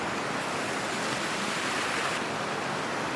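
Steady, dense roar of rushing water from a waterfall, constant and fairly loud throughout with no gaps.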